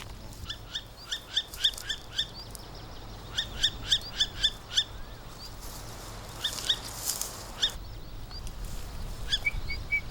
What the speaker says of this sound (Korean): 둥지의 주인은 성숙한 수컷 올빼미였다. 취재팀이 다가서자 예민하게 반응하며 맹렬히 울기 시작했다.